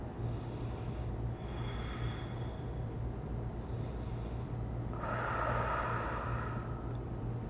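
Slow deep breathing in a yoga class, steady inhales and exhales close to the microphone over a low background hum, with one fuller, louder breath near the end.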